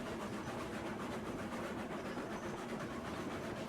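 A heavy freight train straining to haul loaded cars in Railroads Online, a steady dense rumble of wheels and rolling stock with faint rhythmic clatter, continuous and moderately quiet with no talking.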